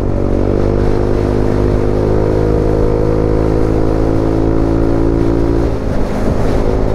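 Italjet Dragster 200 scooter cruising steadily at about 90 km/h, its engine a loud, continuous drone mixed with wind rush, holding a constant pitch with a slight dip near the end.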